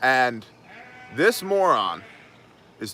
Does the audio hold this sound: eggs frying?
no